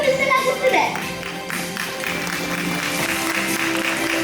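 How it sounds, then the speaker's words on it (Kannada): An audience applauds at the Karnataka Press Club Vaidya Seva Ratna 2025 award ceremony, with a dense, steady wash of clapping in the hall after a brief stretch of speech. "ಚಪ್ಪಾಳೆಯೊಂದಿಗೆ ಅಭಿನಂದನೆಗಳನ್ನ ಧನ್ಯವಾದಗಳನ್ನ ಸಲ್ಲಿಸ್ತಾ ಇದ್ದಾವೆ."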